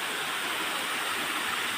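A small waterfall splashes at an old Japanese-era swimming pool, its basin cracked by an earthquake, giving a steady, even rush of falling water that is moderately close and uninterrupted, with no voices.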